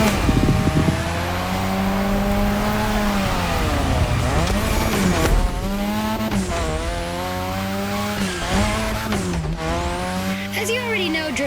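A car drifting on a drift track in the racing game The Crew Motorfest, its engine revving and dipping repeatedly with long tire squeals and skids, loud and close while a voice talks over it.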